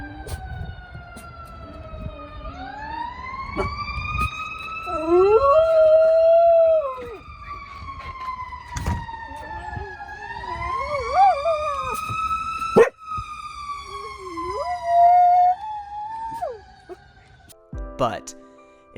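A lab and dachshund mix dog howls along with a wailing siren, its long rising and falling howls tracking the siren's sweeps close by across the whole stretch.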